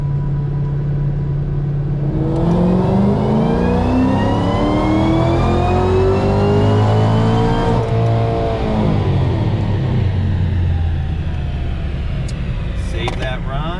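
2012 Ford GT500 V8 with a twin-screw 2.8 L supercharger on a dyno, a loud engine sweeping up in pitch through a wide-open run with supercharger whine, then easing back down, some voice underneath.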